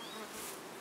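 Honey bees swarm at the hive with a dense, steady hum of many wings, soft and continuous for under a second, with no voices.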